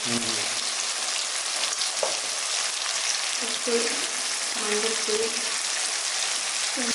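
Chicken fries in a pan of onions and chicken masala with a steady, dense sizzle throughout. A voice speaks briefly over the sizzle at a few points.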